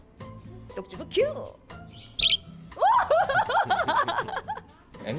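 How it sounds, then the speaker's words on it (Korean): A pet parrot at a parrot café gives bright, chirpy calls and warbling tweets in short bursts, close to the microphone, mixed with people talking and laughing around it. "앵무새"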